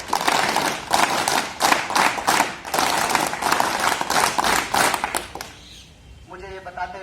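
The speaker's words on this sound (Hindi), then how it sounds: "हम एनएसएस तालियों से सर का हार्दिक स्वागत और अभिनंदन करेंगे" An NSS student audience at Allahabad University welcomes a guest with the unit's rhythmic group clap. Loud unison claps beat in a patterned sequence for about five seconds, then stop, and a voice follows.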